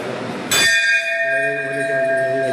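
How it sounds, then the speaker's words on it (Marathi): A single strike of a temple bell inside a Hanuman temple rings out sharply, then its bright metallic tone hangs and slowly decays, close and loud with no talk over it. "घंटी आहे, घंटी वाजवते असे."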